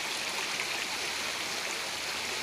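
A cold, clear mountain stream flows through a natural valley, a steady, unbroken rush of water at moderate volume with no voices.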